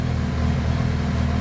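A Suzuki B-King 1340cc motorcycle engine idles close by, a steady low throbbing rumble with an even, unchanging pulse throughout.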